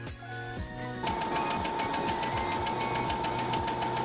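A sewing machine stitches a long seam down one side of a length of fabric tubing, running steadily and loud with a fast, even mechanical chatter that holds from start to finish.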